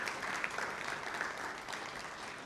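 Applause from the audience at a school board of trustees meeting, a steady patter of many hands at moderate loudness filling the room for a few seconds.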